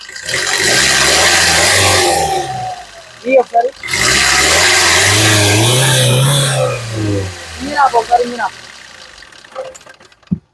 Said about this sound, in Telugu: ఇంజన్ యొక్క నాయిస్ అనేది ఒకసారి వినిపిస్తున్నాను వినొచ్చండి